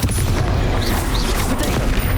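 Bombarda spell explosion in Hogwarts Legacy on Nintendo Switch, a loud, dense rumbling blast with crackling bursts lasting a couple of seconds.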